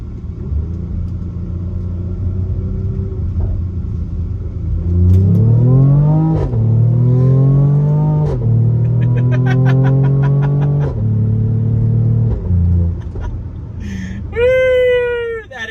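A Mercedes-AMG GLE 43 engine held in manual mode revs up through a corner, its rising gear-by-gear pitch sweeps loud and close; a voice speaks over the low road rumble at the start.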